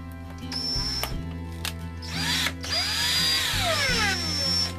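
A power drill whirs in short bursts and then longer runs, driving screws into the back of a small TV set being mounted in a Jayco 23B travel trailer; close and loud, with no talking.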